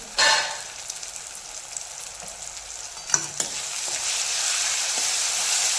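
Tomatoes and onion stir-frying in a pan for aloo sabzi, a loud continuous sizzle with scraping stirs and a couple of sharp utensil knocks, growing slightly louder toward the end.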